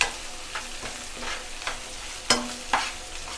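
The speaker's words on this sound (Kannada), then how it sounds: "ಮೀಡಿಯಂ ಫ್ಲೇಮಲ್ಲೇ ಫ್ರೈ ಮಾಡ್ಕೊಳ್ಳಿ." Onions with curry leaves fry over a medium flame in a pan, a soft steady sizzle broken by several sharp scrapes of a spoon stirring, close and without voices.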